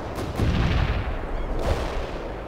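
Artillery fire in the real-time strategy game World in Conflict, with dense rolling booms and heavy low rumbling explosions that overlap continuously and sound loud and close, with no talk.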